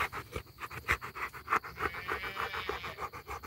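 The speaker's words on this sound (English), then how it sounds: "They see the dog." A dog panting close by in rapid, rhythmic bursts of breath that continue steadily, with faint scratching and background noise.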